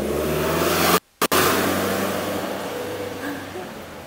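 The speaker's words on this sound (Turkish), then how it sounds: "Ne çok araba geçti be." Cars passing along a road, a steady broadband traffic rush with a brief cut near one second, then continuing and slowly fading, with no talk over it.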